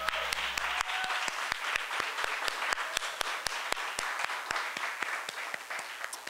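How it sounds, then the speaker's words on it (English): Audience applause after a political speech by a chairman at the Oxford Union, a steady wash of many hands clapping with sharp individual claps standing out, moderately loud and continuous throughout. "Let's give that another round of applause."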